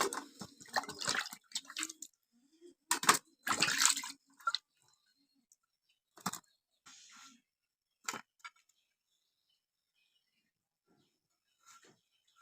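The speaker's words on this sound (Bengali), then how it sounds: "এখন আমি জল দিয়ে ভালো করে ধুয়ে" Peeled bottle gourd being washed by hand in water, with scattered splashes, drips and wet rubbing sounds in short bursts separated by quiet gaps, close and fairly soft.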